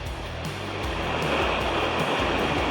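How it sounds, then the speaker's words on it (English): Steady, loud rushing water fills the scene, a broad continuous roar of a waterfall and the Ayung River in Bali nearby, with no speech. "There's the waterfall up there."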